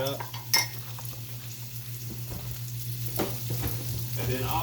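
Two eggs stirred in a hot frying pan, a steady sizzle with scraping utensil strokes and occasional clinks against the pan, close and moderately quiet, no talking.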